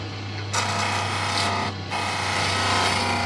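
A skew chisel shears a bead on a wood lathe, giving a steady, close scraping hiss over the motor's constant low hum, with brief drops in the cut around one and two seconds before it resumes.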